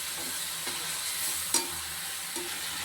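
Ginger garlic paste sizzles steadily in a pan for prawn curry, a continuous close frying hiss with a few light stirring scrapes and clinks.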